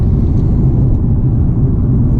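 A Nissan 370Z engine and exhaust while driving, a steady low rumble heard from inside the car with no voices.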